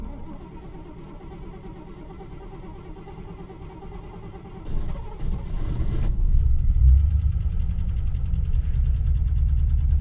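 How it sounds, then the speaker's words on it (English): A Rover P6 V8 with automatic gearbox, freshly refilled with oil, cranks briefly and catches, then settles into a loud, steady low idle close by. "start it up, see if the new oil we've put in has worked its way around the engine"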